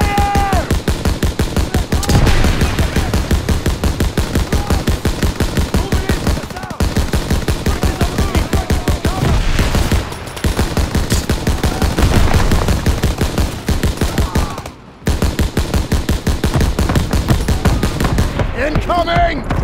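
Call of Duty: WWII battle in a factory, with loud, relentless machine-gun and rifle fire in rapid bursts, brief gaps between volleys, and shouted voices underneath.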